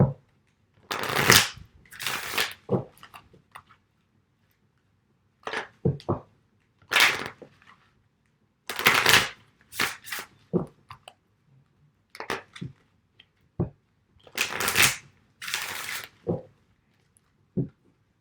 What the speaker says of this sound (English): I just want to shuffle a little bit on camera.